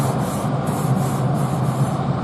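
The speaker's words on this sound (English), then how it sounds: "Before you put steak onto the grill, scrape." A scraper rubs back and forth across a hot pellet grill grate before steak goes on, giving a continuous close, gritty scraping with a steady rhythmic sweep.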